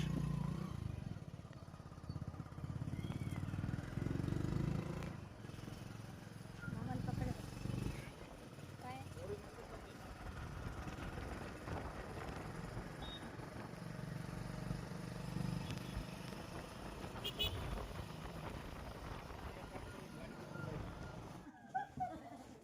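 A continuous low engine rumble and road noise come from inside a shopkeeper's vehicle on the road, with a voice talking over it throughout.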